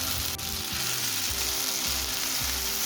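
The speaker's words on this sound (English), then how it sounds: "Heat the oil and then roast the green peas in it." Green peas roasting in hot mustard oil in a pan, a steady close sizzle and crackle of frying with a few soft stirring scrapes, loud and continuous.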